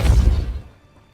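A Repulsor spell is cast in the Hogwarts Legacy video game, giving one loud, heavy blast with a brief crashing whoosh that fades out within about half a second.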